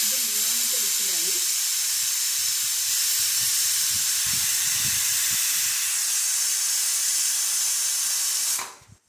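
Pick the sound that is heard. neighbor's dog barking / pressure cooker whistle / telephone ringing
pressure cooker whistle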